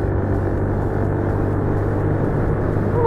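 A Viper Storm 50, a Chinese 50cc moped, drones steadily while being ridden, a continuous close engine rumble with wind noise and no talking.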